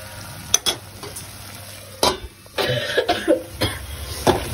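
Ginger garlic paste sautés in a pan, with a low frying sizzle broken by sharp spatula scrapes and clacks against the pan and a cough partway through.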